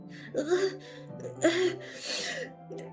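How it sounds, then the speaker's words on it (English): Sharp inhales through clenched teeth in a video game, several strained hissing breaths close up, each with a raspy, pained edge and short pauses between. "A sharp inhale, like someone is sucking the air through their teeth."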